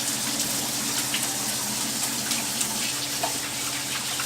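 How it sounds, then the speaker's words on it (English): Steady tap water running into a sink during hand washing in a home kitchen while cooking keto meatloaf, a continuous close hiss of flowing water with no talk. "Wash my hands again."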